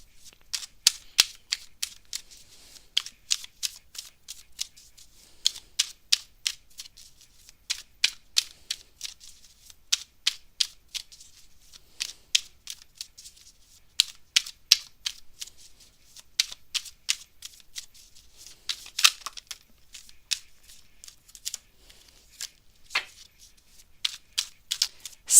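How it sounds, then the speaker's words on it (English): Tarot cards are shuffled and riffled in quick, crisp bursts of sharp clicking flutters, repeating in irregular clusters, close and fairly quiet with no talking. "Let's stop shuffling these cards"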